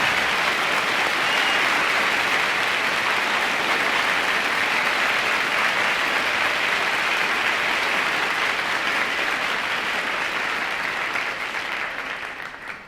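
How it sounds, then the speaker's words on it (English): Sustained loud applause from a large audience, dense and even clapping that continues steadily for several seconds before starting to fade at the end. "Can we have a tremendous round of applause for Bruce?"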